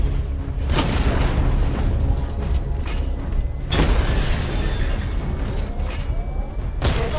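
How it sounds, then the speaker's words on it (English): Repeated booming explosions from a missile barrage in the Batman: Arkham Knight video game, a sustained loud rumble with heavy blasts near the start, at about four seconds and near the end, over mechanical game sounds. "Destroy targets to charge up weapon energy and activate missile barrage."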